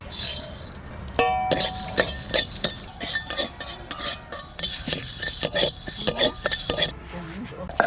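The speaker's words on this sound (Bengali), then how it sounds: "এখানে নিয়েছি ধনে, জিরে, শুকনো লঙ্কা, তেজপাতা, কয়েকটা গোলমরিচ, দুটো এলাচ আর দুটো লবঙ্গ, সব ভেজে নেব" Coriander, cumin, dried chilli, bay leaf, peppercorns, cardamom and cloves dry-roast in a pan, with repeated scraping, stirring and metallic clinks of a utensil against the pan, fairly close and irregular.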